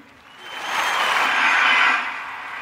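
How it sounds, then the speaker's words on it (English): Audience applause swells from quiet to a full, sustained round of clapping, then tapers off, heard alone with no talking. "Round of applause to all the people that contributed to that show."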